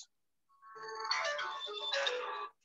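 A mobile phone ringtone plays a short, bright electronic melody in two rising phrases during an online meeting, close and clear, with no voices over it.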